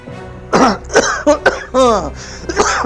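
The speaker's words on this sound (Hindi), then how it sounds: "जरा खांसी हो रही है" A person coughs and clears their throat several times in quick, uneven bursts, close and fairly loud.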